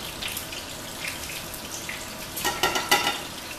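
Thin pieces of halibut frying in a pan, a soft steady sizzle with a few sharper crackling spits near the end.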